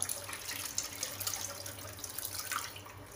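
Curdled milk poured through a thin cloth over a strainer in a kitchen while making paneer, a soft splashing trickle with small drips, close and fairly quiet, tapering off toward the end.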